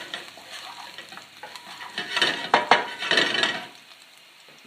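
Ginger, garlic and cumin sizzle in a pan for an Indian dal, a soft frying hiss broken by a cluster of scraping stirs in the middle, with no talking.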